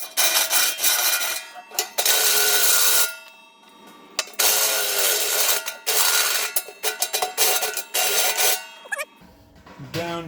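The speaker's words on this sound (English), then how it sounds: "I'm going to run it from the inside to deburr it a little bit" Tool deburring the element hole from inside a brewing kettle, bursts of harsh metallic grinding and rasping that stop and start several times, with short quiet gaps and the ring of the metal pot.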